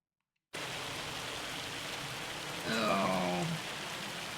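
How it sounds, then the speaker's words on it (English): Steady hiss of hail falling in the video game Farming Simulator 25, a dense even patter filling the scene, with a brief brighter chirping sound rising over it midway; no talk. "Are you kidding? More hail?"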